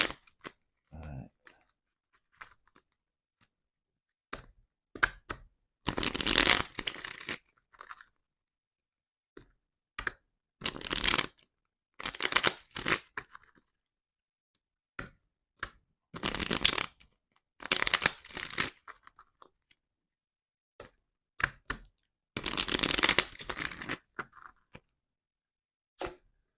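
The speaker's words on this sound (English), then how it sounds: "Let me just shuffle a couple of these cards as well" Bursts of tarot cards being shuffled, several riffling sessions separated by quiet pauses and soft taps, close and crisp.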